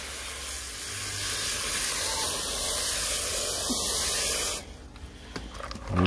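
A gentle water shower rinses hydrochloric acid off CPU sockets during gold recovery, giving a steady, close spray hiss for about four seconds before it stops, followed by faint handling noises.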